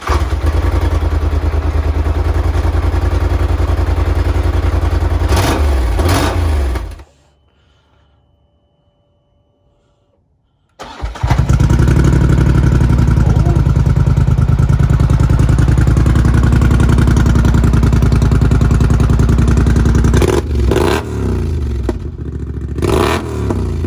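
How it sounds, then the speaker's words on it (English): A Polaris Sportsman ATV with its stock exhaust runs close by with a loud, throbbing idle, falls silent for a few seconds, then cranks and restarts, with a few blips of revving near the end. "So stock exhaust with yeah, stock exhaust cranking."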